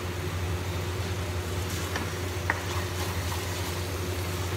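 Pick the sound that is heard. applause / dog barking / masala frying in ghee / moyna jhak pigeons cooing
masala frying in ghee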